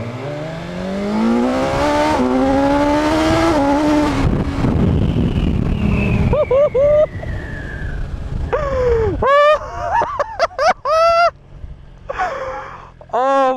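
A BMW of about 165 brake horsepower launches hard from standstill in first gear, its engine note climbing loudly and steadily for several seconds before easing, followed by excited exclamations from people inside.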